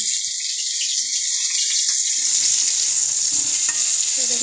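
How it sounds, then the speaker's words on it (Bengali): Potatoes frying in a pan, a steady close bright sizzle with faint stirring underneath and no talk. "আলুটা ভাজতেছি"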